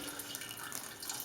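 Hot water runs steadily over malted grains during sparging in a home brew of a golden promise and pacific jade single-malt beer, a soft continuous trickle and splash at moderate distance, quiet and unbroken.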